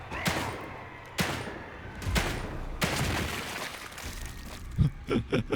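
Repeated gunshots ring out in The Evil Within 2 as a run of loud, sharp bursts spaced about a second apart, each followed by a short decay. A cluster of quicker hits comes at the end.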